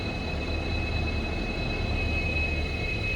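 Passenger train 56630 running from Subrahmanya Road toward Mangalore Central, a steady, loud rumble of carriages rolling along the track with constant low-end drone and a faint high whine throughout, with no voices.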